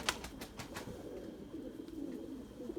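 Domestic pigeons coo softly and repeatedly at a loft, with a few sharp wing-clap flutters at the start, fairly faint and close, no voices.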